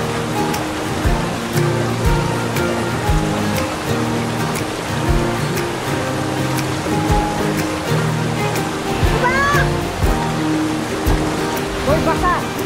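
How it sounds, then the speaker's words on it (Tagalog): Cold water pours down a waterfall in a constant, loud broadband rush. Voices talk over it now and then. "perfect ang waterfalls na ito sa inyo"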